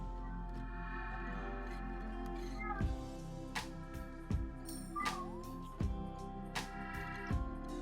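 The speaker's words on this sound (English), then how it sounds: "My cat's meowing, sorry guys." A house cat meows repeatedly indoors, several short, distinct calls spaced a second or so apart over a low steady background hum.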